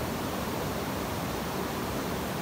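A waterfall near Minca in the Sierra Nevada pours in a steady, dense roar of rushing water, close and constant throughout with no voices over it.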